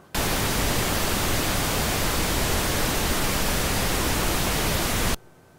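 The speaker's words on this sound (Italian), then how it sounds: "quindi mettendo un rumore rosa lo spettro è piatto" A pink noise test signal played into a spectrum analyzer, a loud, flat, steady hiss that starts abruptly, holds evenly for about five seconds, then cuts off to near silence.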